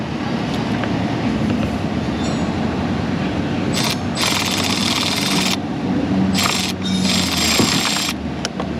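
A power tool removes a screw from an HVAC module box in an auto repair shop. It whirs and ratchets in intermittent bursts against a steady shop background, with no voices.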